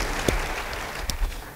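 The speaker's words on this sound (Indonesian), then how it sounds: "Beri tepuk tangan yang baik bagi Dia." A church congregation gives a short burst of applause during a sermon, a continuous wash of clapping heard at a moderate distance for under two seconds.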